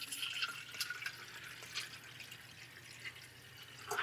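Water poured from a small watering can onto an expanding compressed coco coir brick indoors, a soft trickling and dripping splash, faint and intermittent with brief louder spatters.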